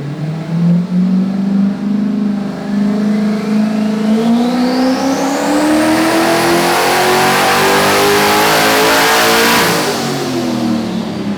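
A loud turbocharged V8 Mustang Cobra engine revs steadily higher, its pitch climbing for several seconds before dropping off sharply near the end.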